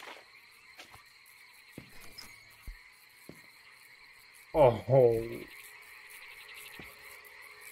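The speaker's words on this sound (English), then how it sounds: "Oh, you stupid frog." A frog in the video game Loveland lets out two loud, close croaks in quick succession, rising out of a quiet backdrop of faint clicks and hum, with a brief spoken exclamation nearby.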